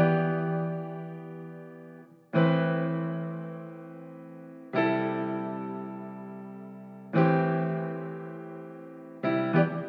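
Sustained synth keys play chords in four long swells, each struck then slowly decaying, with a washy, echoing effected tone; no talking.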